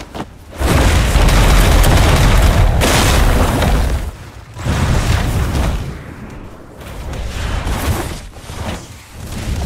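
A bomb blast in the Roblox fighting game The Strongest Battlegrounds, a loud booming explosion that rumbles heavily for several seconds, followed by further fainter blasts and crunching debris, with no talk over it.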